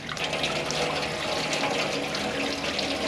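Antifreeze drains from an old, long-sitting Jeep Willys engine into a bucket, making a steady, continuous pouring splash close by with no pauses and no talking.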